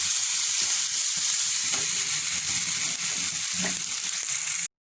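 Ground paste frying with onions in a pan for raw papaya pulusu, a steady close sizzle with a few soft stirring scrapes, cutting off abruptly at the end.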